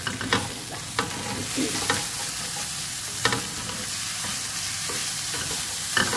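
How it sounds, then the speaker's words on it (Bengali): Cumin, cloves and onion fry in hot oil for dal, giving a constant loud sizzle broken by a few sharp clicks and scrapes of stirring. "যেহেতু জিরা, লং আর পেঁয়াজ দিচ্ছি আমি"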